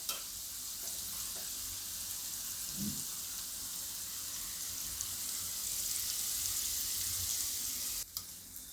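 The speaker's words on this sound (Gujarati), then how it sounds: "આપણે 7-8 મિનિટ જેવું થાય તળાતા." Sliced okra crisps in hot oil for Gujarati kurkuri bhindi, giving a continuous gentle sizzle with a brief stirring scrape near the middle and a short clunk toward the end, no voices.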